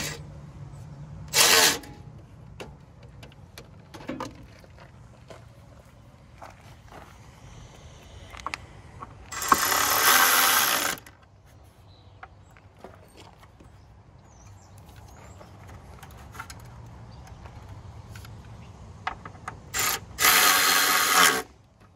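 A ratchet tightens a bolt on an Audi A4/S4 B8 front wheel liner, with short bursts of rapid clicking separated by quieter rubbing and handling noises.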